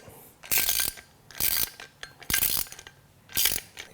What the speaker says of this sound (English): Now I'm just going to hold that bolt, and I have a socket. I'll just tighten these up.